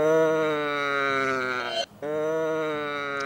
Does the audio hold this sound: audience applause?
no